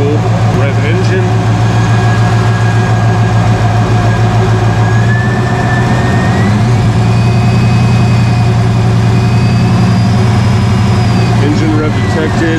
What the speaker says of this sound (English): Rev engine.